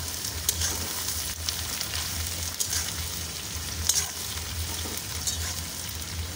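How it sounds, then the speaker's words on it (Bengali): Chopped onions frying in hot oil for mutton kosha, a steady close sizzle with occasional stirring scrapes and pops running throughout. "তারপর আমি এর মধ্যে দিয়ে দিচ্ছি কেটে রাখা পেঁয়াজ। তো চলো পেঁয়াজটাকে একটু ভালো করে লাল লাল করে ভেজে নেওয়া"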